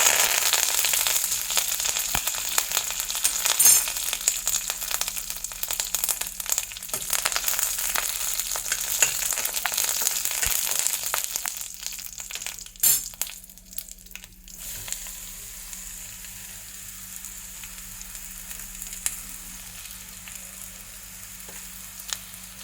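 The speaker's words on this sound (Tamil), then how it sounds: "இப்போ கொஞ்சமாக உளுந்து போடுறேன். ரெண்டு வற்றல் மிளகு, கருவேப்பிலை." Urad dal, dried chillies and curry leaves sizzle and crackle in hot oil, a loud steady frying hiss with stirring that quietens partway through.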